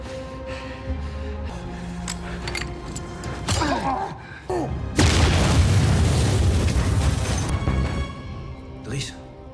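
A hand grenade blast in a mafia film scene, a sudden loud booming explosion with a long rumbling tail after tense clattering and movement sounds, with film dialogue and music underneath.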